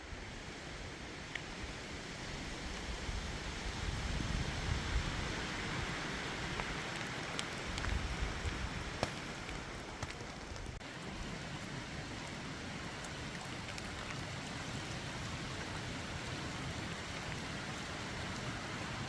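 Steady rain patters and hisses at night over a campsite at Dolly Sods, a continuous wash of drops with a few louder nearby hits, no voices.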